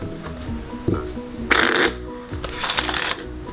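A deck of playing cards is riffled and shuffled by hand in two quick bursts, crisp fluttering close up, with a soft tap between them.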